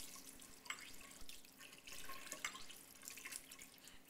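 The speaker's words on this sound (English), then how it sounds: "now I am gonna rinse out my little beaker and my graduated cylinder in between" A small glass beaker is rinsed under a running tap at a lab sink: a steady, faint hiss of flowing water with scattered drips and splashes, continuous and close with no talking.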